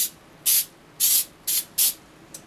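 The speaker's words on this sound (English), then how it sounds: "I'm actually just going to coat it very lightly with a cooking spray." Five short bursts of aerosol cooking spray coating a cake pan, each a sharp hiss lasting a fraction of a second, spaced evenly apart with quiet gaps between.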